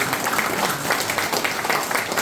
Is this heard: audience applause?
yes